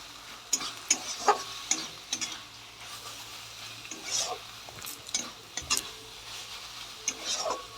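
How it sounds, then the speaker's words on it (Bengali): Sattu frying with spices in a pan while being stirred: a steady soft sizzle broken by repeated scraping and clinking strokes of the spoon against the pan, close and alone without talk. "মশলার সাথে ছাতুটা যাতে একটু কষুক, সেই তার অপেক্ষা রইল।"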